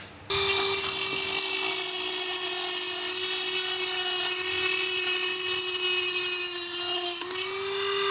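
A power cutting tool runs steadily on a motorcycle signal light wiring bracket of a Harley-Davidson Sportster Iron 883, giving a loud, continuous high-pitched whine for several seconds that dips briefly near the end before stopping.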